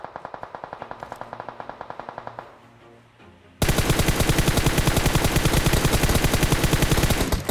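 Bursts of automatic gunfire from the PUBG battle royale video game on the Miramar map: a rapid, even run of loud close shots, a short lull, then a denser, louder sustained volley, with no talk.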